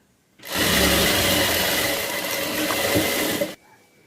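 A sewing machine stitches the net layer of a one-year-old baby girl's dress, running in one steady, close, motorized whir for about three seconds before stopping abruptly.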